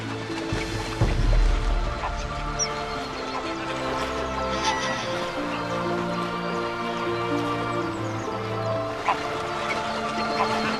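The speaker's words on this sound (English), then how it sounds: "these swans need a light step to achieve the miracle of waterborne aviation" Young swans patter and splash across the water surface in a long take-off run, a steady rough rush of slapping feet and wingbeats heard close, with brief louder splashes near the start.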